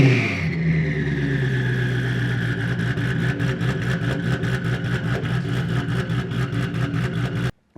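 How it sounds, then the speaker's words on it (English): A Shelby GT350 1400R with twin turbos runs steadily, its engine note lumpy and rhythmic with a rising turbo whine, loud and close throughout before stopping abruptly near the end. "the car sounds absolutely awesome when you fire it up, when it goes into ghost cam mode"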